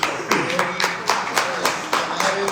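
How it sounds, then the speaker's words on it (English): Scattered bursts of clapping from a small audience at a Thornton Township board meeting, several uneven rounds of hand claps close by within a couple of seconds, with faint voices underneath. "Those are her people clapping to Marcus quickly."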